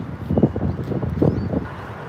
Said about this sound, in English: Well, it's a little windy, to say the least.